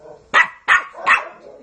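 A pet dog named Katie gives three sharp barks in a quick, evenly spaced run, close and loud.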